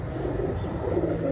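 Pigeons cooing softly and continuously at a breeder's loft, a low murmuring of several birds close by with no talk over it.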